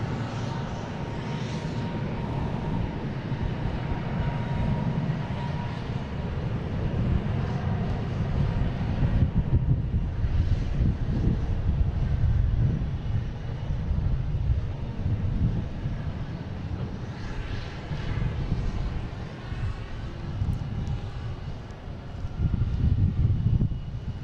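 A Delta Airbus A330-900 jet on flight 58 to London Heathrow departs Boston Logan, its engines a continuous broad roar heard from a distance that swells and fades gradually.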